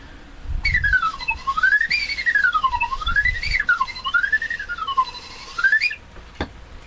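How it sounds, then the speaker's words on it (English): Slide whistle warbling effect: a single clear whistled tone glides up and down in repeated smooth swoops, loud and alone, ending with a short click. "And then we got the warbling effect."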